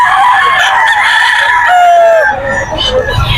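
A rooster crowing at the Bocaue pet market, one loud drawn-out crow close by, with other clucking fowl and market background underneath.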